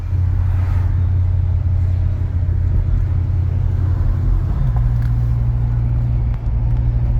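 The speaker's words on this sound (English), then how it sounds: "Here we are in the world famous Ford Mustang, cruising the strip." A 1968 Ford Mustang coupe with a 289 V8 cruising a beach strip, heard from inside as a loud, steady engine drone and road rumble; the pitch drops slightly partway through.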